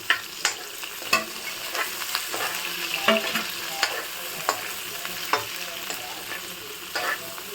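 A spatula scrapes and clacks against a pan as Goa-style chilli chicken is stirred over a steady sizzle, with sharp knocks every second or so, close and loud, with no talking.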